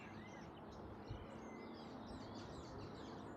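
Birds chirp and trill in the trees beside a lake in Mexico, many small calls scattered throughout over a soft, continuous outdoor background, faint and distant with no talking.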